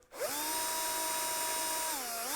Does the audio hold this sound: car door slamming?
no